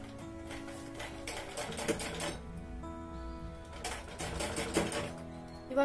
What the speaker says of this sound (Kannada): ಇವಾಗ ನಾವು ಸ್ಟಿಚ್ ಮಾಡ್ಕೊಳ್ಳೋಣ ಇದಕ್ಕೆ.